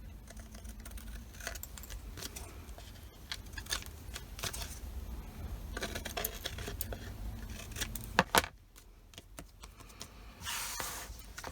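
Scissors trim fabric edges at close range in a series of soft, irregular snips and rustles over faint background noise, with a sharper cut standing out near the end.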